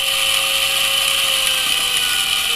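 The small electric motor of an SCX24 RC crawler spins at full throttle, a steady high-pitched whine with a sharp tonal edge, loud and close, holding constant without variation.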